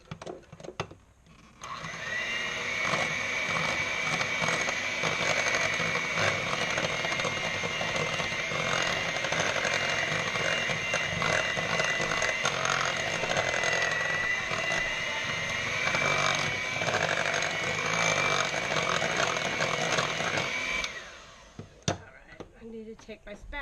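An electric mixer with beaters whips chocolate cake batter, its steady whirring motor drone running for about twenty seconds before cutting off, fairly quiet and close.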